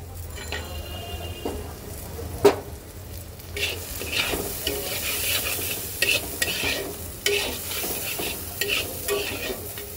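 Raw shrimp fry in a spiced pan for a taro leaf dish with fish heads, a steady close sizzle broken by repeated scraping and clinking stirs of a utensil against the pan.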